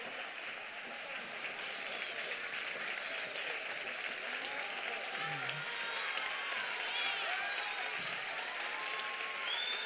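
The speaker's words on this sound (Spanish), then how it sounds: "un fuerte aplauso a todo el grupo" Sustained applause from a crowd at a town carnival proclamation event in Torreperogil, dense clapping filling the whole stretch with faint cheers and scattered voices underneath, steady in level and slightly swelling toward the end.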